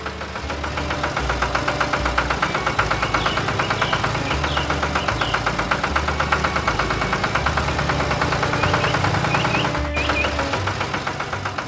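A tractor engine runs steadily in a mine pit, a close, rough mechanical idle with a pulsing, knocking rhythm and a constant low drone lasting about twelve seconds without speech.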